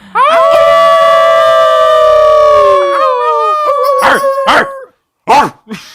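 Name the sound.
people imitating wolf howl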